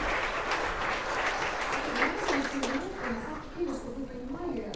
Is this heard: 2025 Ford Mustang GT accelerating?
no